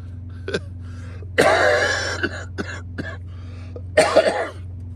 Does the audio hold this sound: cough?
yes